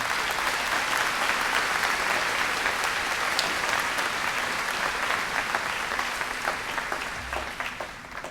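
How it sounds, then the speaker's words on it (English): Sustained audience applause fills a high school commencement ceremony for the class of 2022, a dense even wash of many hands clapping at steady volume that tapers slightly toward the end. "Can we all give a round of applause?"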